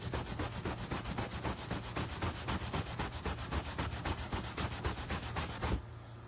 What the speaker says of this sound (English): I'm just gonna keep rubbing it. Until it keeps coming off with the microfiber.